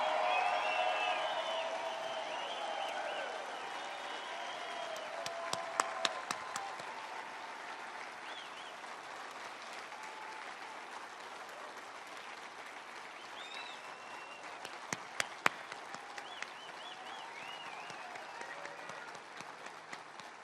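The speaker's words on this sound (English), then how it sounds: "Would you give them a round of applause?" A crowd at an evening fireworks event at Mount Rushmore applauds steadily for about twenty seconds, a dense wash of clapping that starts strong, holds at a moderate distance and slowly thins, with a few sharper bursts midway.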